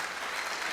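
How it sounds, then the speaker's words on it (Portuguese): A church congregation claps together during a worship service, a dense continuous wash of applause that fills the short moment with no voices standing out. "Vamos aplaudir esse nome."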